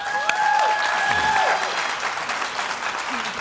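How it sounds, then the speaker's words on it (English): An audience at a panel discussion event applauds the speakers, a dense, steady clapping that fills the room for several seconds. "Let's give them a round of applause."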